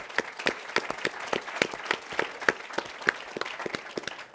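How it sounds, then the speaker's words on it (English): A modest audience at the Economist-Lumina Challenge award ceremony applauds, with distinct, fairly sparse claps in a brisk, uneven rhythm from a small group of nearby hands. "maybe one more round of applause for Chris, Paul, and Peter."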